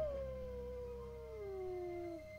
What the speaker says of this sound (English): Are the wolves in the woods?